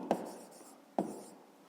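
Handwriting on paper during a fifth-grade maths exercise, two short scratchy pen strokes about a second apart, each a quick sharp attack fading out, close and quiet with no talk.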